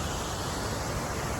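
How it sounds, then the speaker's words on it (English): An Icelandic waterfall at night gives off a continuous, even roar of rushing water, loud and unbroken through the moment, with no voices. "this is the waterfall"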